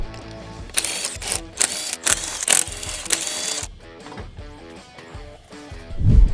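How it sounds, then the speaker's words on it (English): Removing the rear wheel of a Polaris RZR Pro R produces bursts of loud ratcheting and mechanical clatter from tools, then quieter clicks and clunks of handled parts. "so I'm gonna have to remove the rear wheel"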